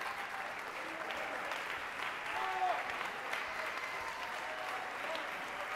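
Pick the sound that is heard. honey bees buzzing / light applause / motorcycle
light applause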